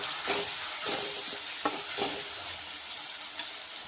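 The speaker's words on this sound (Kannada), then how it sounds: "ಈಗ ಸ್ವಲ್ಪ ಕೊತ್ತಂಬರಿ ಹಾಕಿ ತಿರುಗುತ್ತೀವಿ" A spoon stirs chopped green chillies and coriander through hot oil in a pan, with a soft steady sizzle broken by several scraping strokes against the metal.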